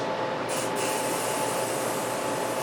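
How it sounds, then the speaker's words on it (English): A steady hissing spray of mist from a spray bottle of Quick Clean table cleaner runs continuously, broad and close, with no voices. "with the Quick Clean, it sprays a mist"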